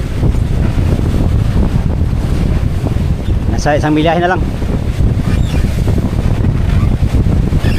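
Five- to six-foot ocean waves surge around a boat at sea under strong monsoon wind, a loud, constant roar of wind buffeting and water, with a brief voice speaking partway through.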